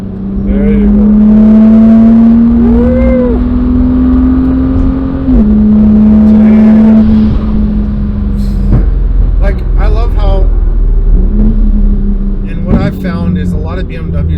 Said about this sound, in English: if you wanna do a fourth gear pull in this stretch